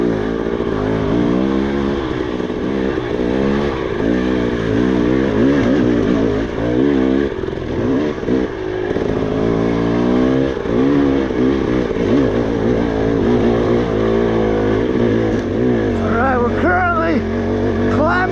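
A dirt bike engine drones steadily and loudly as the bike climbs through rough terrain on a well-used trail, its pitch rising and falling under a rider's talk throughout.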